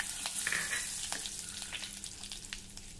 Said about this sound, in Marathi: 2 ते 3 सुक्या लाल मिरची, चिमूटभर हिंग घालूया, 6 ते 7 कढीपत्त्याची पानं